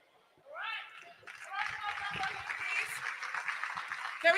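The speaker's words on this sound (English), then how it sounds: "Can we make the applause louder?" Conference audience applause at AWS Community Day West Africa 2024, swelling up after a brief voice at the start and continuing as a steady, moderately loud wash of clapping with a few voices mixed in.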